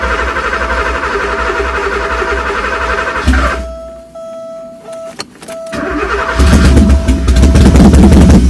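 A Porsche 928 left unstarted for over 15 years cranks and catches, stumbling through a rough idle with a brief dropout before roaring to a loud, steady run close by.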